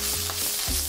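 Corn kernels frying in hot oil for tostones alicantinos, a brief loud bubbling sizzle with crackling pops.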